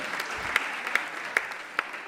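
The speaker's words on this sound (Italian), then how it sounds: "Un applauso a Antonello Venditti" A comedy show crowd applauds in a steady, continuous patter of many hands, with a few louder individual claps landing at regular intervals, and no voices over it.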